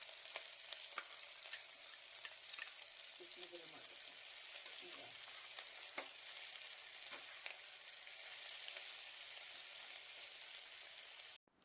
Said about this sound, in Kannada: ಇವೆಲ್ಲವನ್ನ ಎಣ್ಣೆನಲ್ಲಿ ಹಸಿ ವಾಸನೆ ಹೋಗುವವರೆಗೂ ಹುರಿದುಕೊಳ್ಳೋಣ